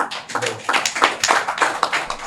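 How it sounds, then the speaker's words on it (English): Scattered clapping from a small audience at a career counselling lecture, a few dozen hands tapping in an uneven, moderately loud patter that carries on steadily for a couple of seconds. "Let us give a round of applause"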